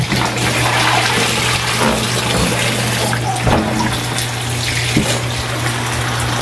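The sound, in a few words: washing vegetable leaves under tap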